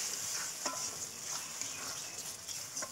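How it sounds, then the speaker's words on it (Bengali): Spice paste for a home-style chicken and potato curry being stirred and fried in a pan, soft continuous sizzle with scraping strokes of a spoon every half second or so, fairly quiet and close, no voices. "দিয়ে এটাকে ভালো করে কষাতে হবে।"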